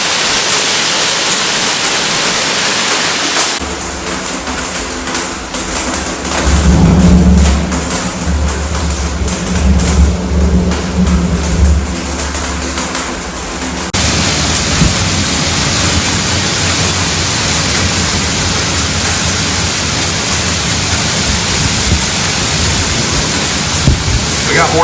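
Hail and rain pound a camper van during a storm, a dense, steady roar of impacts across the whole clip, briefly joined by a deeper rumble in the middle before settling back into the relentless drumming.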